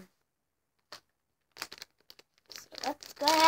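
Short bursts of tearing and crinkling as a blind box toy package is opened, sparse at first and then more continuous, close by with a brief voice at the end.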